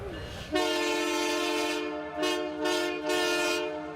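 A holiday train sounds its horn loudly and close by, a sustained multi-tone blast holding for several seconds with a few swells in volume, steady rail rumble beneath.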